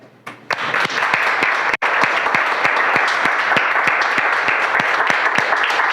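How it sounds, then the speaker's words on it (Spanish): A church congregation bursts into loud, sustained applause with dense clapping that continues steadily to the end after a brief pause near the start. "Y yo quiero en el Señor que se den un fuerte aplauso"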